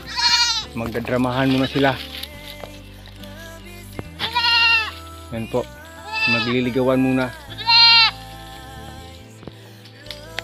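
Goats on a farm, including a female goat in heat, bleat loudly and repeatedly in wavering cries close by, while someone talks between and over the calls.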